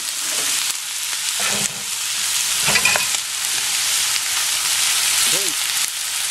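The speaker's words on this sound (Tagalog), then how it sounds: "medyo lutuin natin dito sa cooking oil" Chicken gizzards frying in cooking oil, a loud, steady hiss and crackle that fills the whole stretch, with a few scrapes of stirring and a brief murmured voice.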